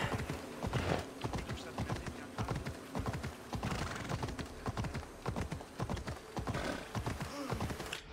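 Horse hooves clip-clop steadily through a game scene in Assassin's Creed Odyssey, a dense run of close, evenly spaced strikes with a brief whinny at one point, over a low ambient bed.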